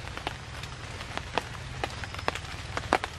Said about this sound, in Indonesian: Nah, di ini hujan gerimis tadi agak lebat teman-teman.